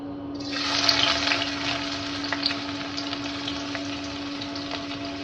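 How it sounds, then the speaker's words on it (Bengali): Chopped onions with cinnamon, cardamom and bay leaves sizzle and crackle in hot oil in a wok, a steady frying hiss that starts abruptly and continues throughout. "পেঁয়াজটা আমি একটু ভেজে নেব।"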